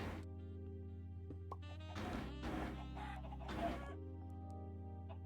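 Minecraft chickens cluck in short bursts over a steady droning background, with several close, loud clucking clusters in the middle.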